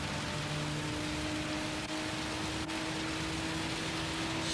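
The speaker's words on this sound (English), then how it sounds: "This rain, man." Loud, unbroken downpour in the racing game Gran Turismo 7, a thick wash of rain noise over a low steady car drone, with no talking.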